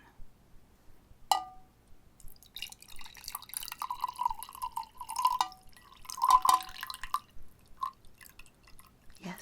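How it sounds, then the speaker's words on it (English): Liquid trickles and drips as it is poured from a chalice, soft close-up splashes and faint clinks heard in a quiet, intimate setting without talking. "Once I pour it, the magic from the chalice will begin to wane."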